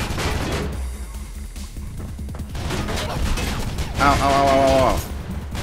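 M60 machine gun fire in the video game Mirror's Edge, on a boat: sustained rapid bursts with crashing impacts, loud and close, while a voice repeatedly cries out in pain over it.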